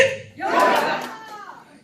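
A room of mothers at a senior happiness-school class lets out a loud shout together, practicing the cheer in unison before clapping in time. The shout rises sharply and fades over about a second.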